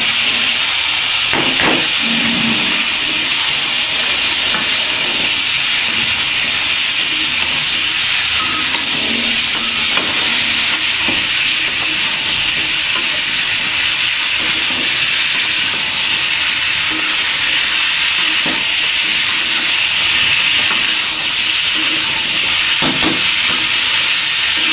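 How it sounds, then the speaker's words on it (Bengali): Radishes fry with cooked-down spices in a pan, giving a loud, constant close hiss of sizzling with a few faint knocks of stirring underneath. "মশলা কষানো শেষ, এখন মূলাগুলা দিয়ে দিবে।"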